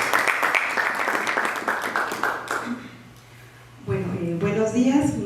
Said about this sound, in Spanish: Un aplauso, por favor, a la primera ponente.